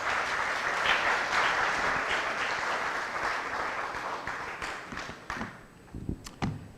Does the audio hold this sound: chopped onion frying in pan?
no